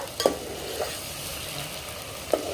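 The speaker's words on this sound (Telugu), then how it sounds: "టమాటా గుజ్జట్లా అది కొంచెం వేగిందా? అది ఎర్రగా వేగిన తర్వాత" Tomato pulp frying in a pan for a goat head curry, with a steady low sizzle and a few short stirring scrapes; no one talks.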